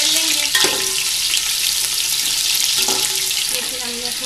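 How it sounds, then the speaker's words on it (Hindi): Chopped onions fry in hot oil for a chicken yakhni pulao, a loud continuous sizzle with occasional stirring clinks from a utensil, and no talk over it. "इसमें मैं प्याज डालूंगी जो काट के रखी हुई थी। इसको हल्का हल्का फ्राई कर लेंगे"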